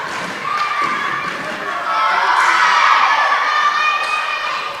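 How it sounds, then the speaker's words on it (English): Girls' volleyball team and crowd cheering at a middle school district tournament match in a gym, a sustained, loud burst of shouts and cheers swelling midway, with voices and thumps mixed in. "Another weird ace cheer from the girls"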